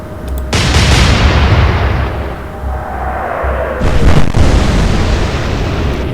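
Naval guns fire in the Atlantic Fleet game, two heavy booms several seconds apart. Each one is loud and close, with a long rumbling tail that rolls on between them.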